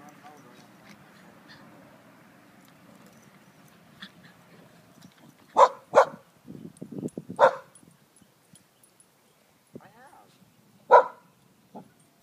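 Small dogs yipping and barking in short bursts nearby, with soft whimpers and a faint rustle of play in between.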